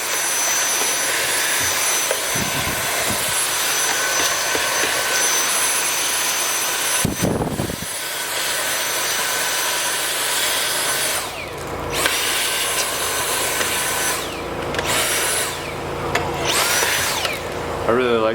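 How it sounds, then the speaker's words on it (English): A Dyson vacuum cleaner runs in a workshop while it cleans a dirty espresso machine, giving a loud continuous high whine with a few brief breaks and shifts in pitch as it moves around. "I'm going to vacuum just a little bit"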